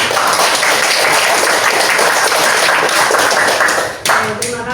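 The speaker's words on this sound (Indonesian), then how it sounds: "Mari kita beri apresiasi, kita beri tepuk masyarakat untuk semua kelompok" A school class applauds student groups in a classroom, a dense burst of many hands clapping that runs loud and steady before stopping abruptly, followed by a few scattered claps and room noise.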